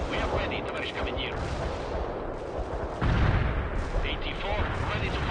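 Artillery fires in the war game World in Conflict as a dense, continuous roar of booming shots and rumbling blasts, loud and close, with a heavier surge midway and radio-style voices talking under the barrage.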